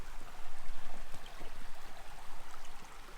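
Clear mountain river water flows steadily and fairly close, a continuous rushing, gurgling wash with no voices over it.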